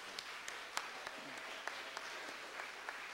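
An audience at a town hall meeting on Chicago school board representation applauds, a faint, distant wash of clapping with a few sharper individual claps standing out.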